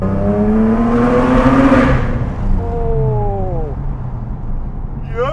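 Engine of a 2007 Porsche 911 GT3 rising in pitch as the car accelerates from inside the cabin, loud and climbing for about two seconds, then dropping back with a shift and pulling again.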